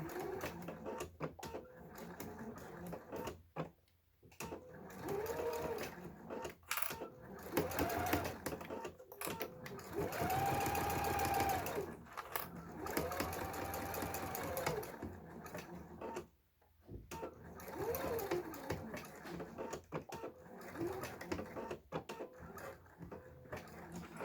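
A sewing machine stitches a 1/8 inch seam with a 3 mm stitch length along the edge of a minimalist wallet, a fairly quiet mechanical whirring and clatter that runs in bursts, speeding up and slowing, with brief pauses.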